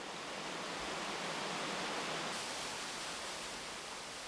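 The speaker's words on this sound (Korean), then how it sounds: "계곡 아래 폭포가 웅장한 물소리로 발길을 붙잡는다." A waterfall in a valley below a mountain temple path roars as a dense, steady broadband rush of water that stays even and loud for the whole stretch, with no voices.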